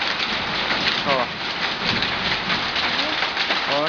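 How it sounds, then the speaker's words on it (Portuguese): Hail pelting down during a storm in São José dos Pinhais, a dense continuous patter of hard stones striking surfaces, with people talking and exclaiming in the background. "Viu? Granizo caindo. Chuva de pedra."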